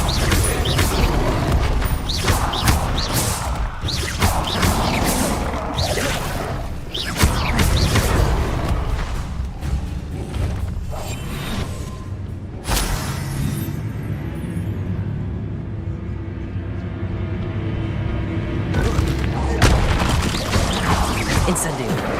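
Incendio fire spells are cast repeatedly in Hogwarts Legacy, giving loud bursts, crashes and whooshing blasts throughout a long stretch of combat, with a voice speaking over the action.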